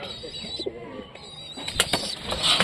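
Pigeons coo and stir nearby as a black male chases a female, with a few wing flaps and rustles against a quiet background.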